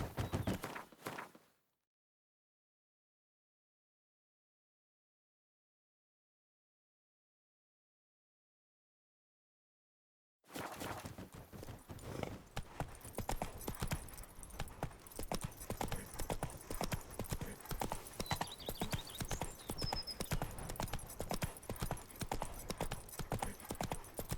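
Horse hooves clip-clop at a steady gallop in The Witcher 3: Wild Hunt, Blood and Wine, loud and continuous after roughly eight seconds of silence, with a short burst at the very start.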